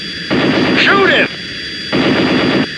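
Aircraft guns fire in the 1999 Mig Alley flight sim game, two loud sustained bursts of rapid gunfire over engine drone, with a voice shouting over the shooting.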